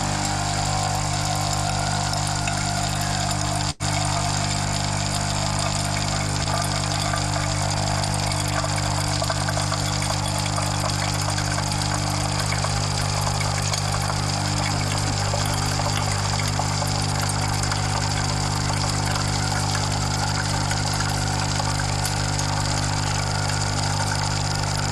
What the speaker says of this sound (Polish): on sobie ją wodą przeczyści sobie po prostu tę dyszę w tym momencie